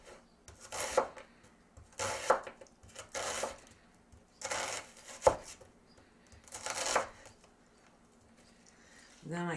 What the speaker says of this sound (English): I cut it down the middle. Then I like to cut slices.